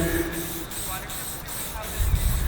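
A Rust-Oleum spray paint can in Maui Blue hisses steadily while filling in a graffiti piece, a continuous close airy spray with slight pulsing and a low rumble near the end.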